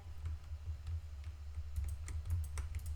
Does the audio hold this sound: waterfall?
no